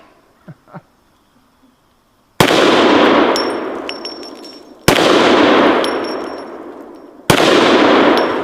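Three loud Desert Eagle pistol shots at an outdoor shooting range, each a sharp blast followed by a long echoing decay with metallic ringing from steel targets, spaced about two and a half seconds apart after a quiet start.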